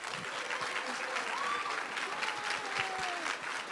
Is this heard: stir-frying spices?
no